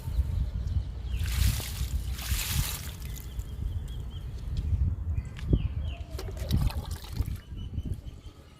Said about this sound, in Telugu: పొగడ బంతికి ఇచ్చేద్దాము లిక్విడ్ని.